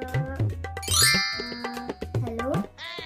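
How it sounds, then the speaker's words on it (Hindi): A phone rings in the morning with a bright chiming melodic ringtone of repeated tinkling notes, fairly close and clear, with no talking over it. "हे भगवान, इसका सुबह सुबह फोन आ गया।"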